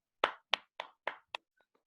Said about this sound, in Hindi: अपने जगह से जोरदार तालियां।